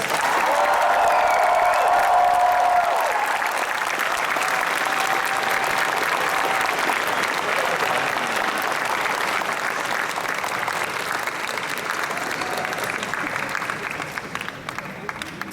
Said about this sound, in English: let's give one final big round of applause for our Japanese guests